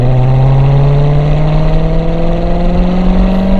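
A Corvette C7 Z06 engine drones loud and close, holding a steady pitch that rises slightly as a little throttle is given, a smooth sustained tone throughout.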